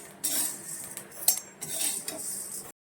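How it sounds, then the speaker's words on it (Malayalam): Roasted rice being scooped out of a hot pan into a vessel while making fenugreek lehyam, with a few close metal clinks and scrapes of a spoon against the pan separated by short pauses. "നമുക്ക് അതും കൂടി കോരി ഒരു പാത്രത്തിലോട്ട് മാറ്റാം."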